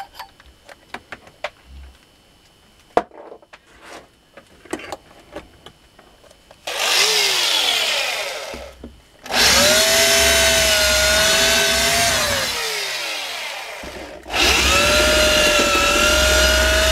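An electric drill bores into the commutator of a Welling HXGM2I.03 washing machine motor armature, running in three loud sustained bursts with pitch sagging under load, preceded by scattered clicks and taps of handling.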